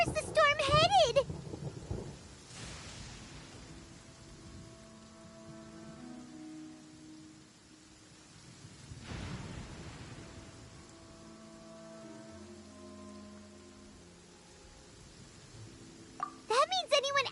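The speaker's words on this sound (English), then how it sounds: "Paimon hears thunder!" A thunderstorm in the Genshin Impact video game, with rain hissing steadily throughout and two heavy rolling thunder rumbles, one near the start and another around the middle, while game music and character voices play over it.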